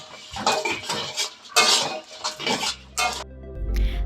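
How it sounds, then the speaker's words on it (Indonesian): Spices dry-roasted in a pan for Batak tambul, with busy close scraping and clattering of a utensil against the pan in bursts, ending in a low rumble. "kita akan menggongseng ini dulu"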